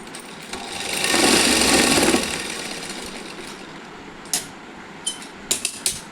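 Sewing machine stitching a short nightie, with a steady whirring run of about a second near the start, followed by a few short clicks and taps. Close, with no talk.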